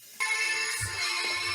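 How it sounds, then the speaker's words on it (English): A mobile phone ringtone chimes loudly and close, a bright repeating electronic melody that cuts in suddenly during a tabletop role-playing session and continues steadily. "That is my phone."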